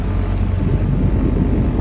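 Wind blows across a fishing boat out at sea during bait-line whiting fishing, a loud, steady rumbling rush with slight gusting and no voices.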